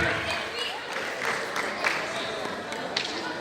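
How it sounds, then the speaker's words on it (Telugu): Audience applause in a hall at a state-level school science fair, a dense crowd of clapping hands with scattered louder claps, steady throughout and mixed with background murmur. "ఒక్కసారి చప్పట్లు పడదాం"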